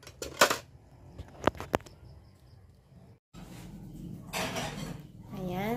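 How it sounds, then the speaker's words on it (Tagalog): Dishes, pots and plates clink and clatter at close range while being washed after a shrimp meal, sharp knocks early on, then running-water hiss with a voice speaking over it. "si kuya pa rin ang naghugas ng pinggan"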